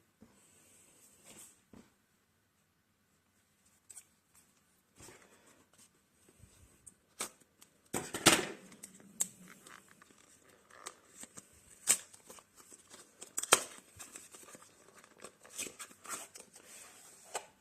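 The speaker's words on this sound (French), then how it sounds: "Et pour les ciseaux." Scattered sharp snips, scrapes and crinkles of scissors cutting open the cardboard box and packaging of Xiaomi Air Dots Pro earbuds, irregular and close, with quiet stretches between bursts.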